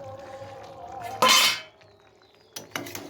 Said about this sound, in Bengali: তো চলো খুলে দেখি তরকারিটা কি হলো।